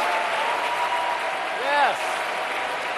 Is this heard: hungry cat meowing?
no